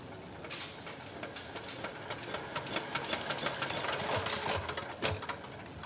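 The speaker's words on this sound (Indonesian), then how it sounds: "Ini apakah bisa menyalakan mesin diesel ini?" A diesel engine running on fuel made from plastic waste clatters through a cranking start with a rapid, rough mechanical knocking and rattling that stays steady and fairly loud throughout.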